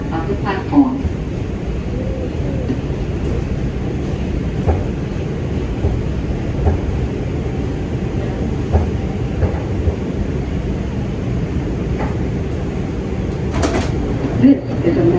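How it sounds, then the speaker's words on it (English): Manhattan-bound 2 train in a New York subway station: a continuous loud rumble of railcars with scattered clicks and clatter, under automated announcements. "This is a Manhattan-bound 2 train."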